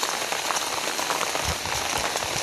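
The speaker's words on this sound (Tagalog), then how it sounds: "Dito lang talaga sa bukid. May ulan." Rain pours over rural farmland in the Philippine countryside, a dense, steady hiss of drops on leaves and surfaces, close and continuous with no break and no talking.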